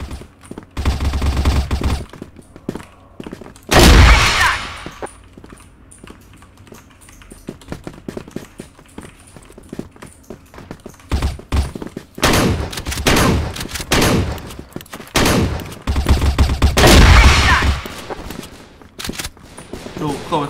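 Shotgun blasts in the first-person shooter CrossFire ring out as several loud, separated bursts and clusters of rapid shots, with quieter game noise and an occasional voice between them.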